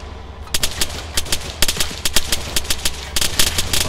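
Machine gun fire in ARMA 3, rapid bursts of sharp gunshots cracking in irregular clusters over a low background hum, loud and close, with no talk.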